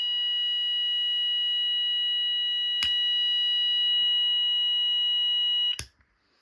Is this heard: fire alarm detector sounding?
yes